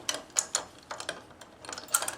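A Starline busway plug is turned and bolted into its housing, giving a string of dry mechanical clicks and ratcheting ticks in short bursts, fairly faint and close, with no talk.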